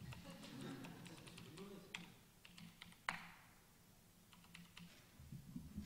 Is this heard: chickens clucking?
no